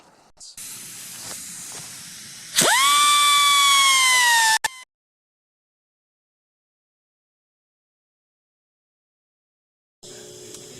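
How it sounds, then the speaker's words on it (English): An angle grinder grinds the heads off bolts on a Dodge Dakota truck bumper, a loud close motor whine that spins up and holds for about two seconds before cutting out, then silence and another short burst at the end. "so now I'll just use the grinder and grind the heads off of these bolts."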